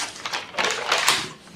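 Scissors snip through fabric along a skirt's zipper line in a quick series of crisp, close cuts over about a second and a half, with no talk.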